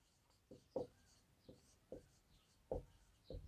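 Chalk or marker strokes on a classroom board as a teacher writes out a definition: short scratchy strokes come in a loose irregular rhythm, faint and close, with no talking.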